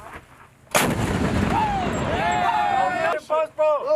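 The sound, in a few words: military gunfire during Cobra Gold exercise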